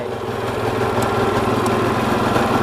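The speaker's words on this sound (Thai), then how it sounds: "อ่ะ ติดเครื่องได้" A TZR motorcycle engine that has just started idles close by as a steady, loud, buzzing rumble with no voices.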